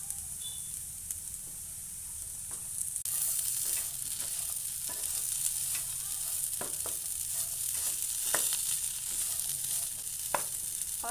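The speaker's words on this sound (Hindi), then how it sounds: "यहाँ पर हमने स्टफिंग को दो मिनट और अच्छे से भून लिया है" Bread samosa stuffing frying in a pan, a loud continuous sizzle with repeated scraping and stirring clicks from a spatula, steady and close.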